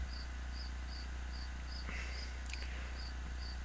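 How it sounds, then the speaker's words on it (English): Swamp creatures chirp in a repeating, evenly pulsed chorus over a steady low drone in Infocom's Enchanter game, with one brief sharp sound partway through and no talking. "The sound of frogs and other swamp dwellers fill the air."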